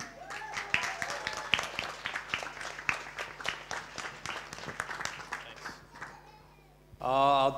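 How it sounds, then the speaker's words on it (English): Wedding reception guests clap for a speaker, a crisp run of individual claps with scattered cheers and voices, then a brief lull before a louder burst at the end. "Let's hear a round of applause for Matthew Jezewski."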